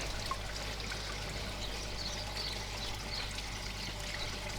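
Water pouring into a koi pond filter through a partly opened gate valve, a constant close rushing wash that holds steady from start to finish with no speech.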